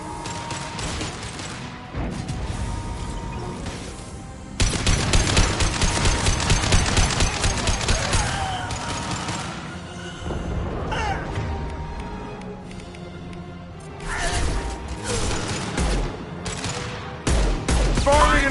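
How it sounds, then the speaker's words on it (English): Rapid bursts of automatic weapon fire and heavy gun blasts in the Mass Effect 2 video game, loud and dense in several clusters with short pauses, mixed with game effects and occasional voices. "Firing an impact shot."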